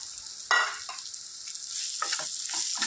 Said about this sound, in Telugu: దీన్ని మంచిగా ఇలా ఫ్రై చేద్దాం.